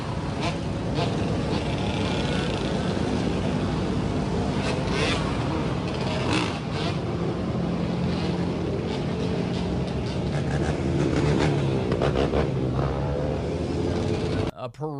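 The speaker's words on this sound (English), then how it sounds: "A parade of dirt bikes and ATVs and motorcycles barreling through Arlington, going the wrong way in traffic much of the time" Dirt bikes, ATVs and motorcycles barrel down Wilson Boulevard in Arlington, Virginia, on a Saturday night, often against traffic. Their engines make a dense, loud, continuous roar with rising revs, and voices mix into the noise throughout.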